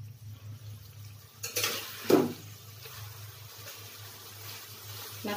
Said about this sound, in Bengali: নাড়া দিয়ে দিতে হবে একটু।